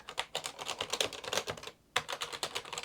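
Keys tapped rapidly on an Amiga 500 keyboard under test during a repair, a dense run of close clicks with a brief pause near the two-second mark before the tapping resumes.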